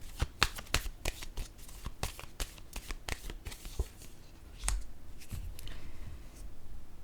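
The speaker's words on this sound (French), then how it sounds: "Je vais déposer une carte dans la zone de la dette pour mieux comprendre." Tarot cards shuffled and laid down on a table make a run of sharp, close paper snaps and flicks in an irregular rhythm, followed by a softer rustle, with no one speaking.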